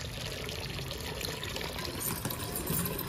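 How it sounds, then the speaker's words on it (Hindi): Water runs steadily from a pipe straight into a pigeon's water bowl, a continuous close splashing pour with no pauses, fairly quiet and without talk. "जो ऐसे पानी देता है सीधा डायरेक्ट सप्लाई प्याले में"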